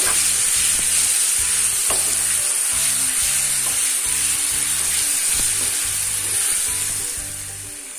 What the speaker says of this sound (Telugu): ఈ ఉల్లి ముద్ద వేసాక ఇది కూడా బాగా ఫ్రై అవనివ్వాలండి.